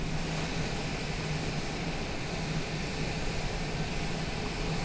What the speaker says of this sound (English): Taxiing to general aviation parking using taxiway Alpha Cessna Tree Bravo Whiskey.